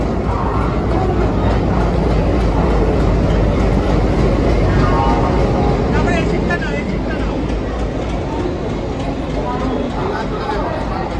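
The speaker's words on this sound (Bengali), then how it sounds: "12311 নেতাজি এক্সপ্রেস জাস্ট 9 নম্বর প্ল্যাটফর্মেই দিল।" The 12311 Netaji Express pulling in at platform 9 of Howrah station, a loud rolling rumble with clattering wheels and squeals under busy station voices and chatter.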